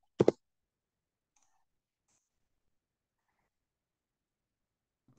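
A single quick computer mouse click at the start, a short sharp double tick, followed by near silence with only faint traces of other sounds.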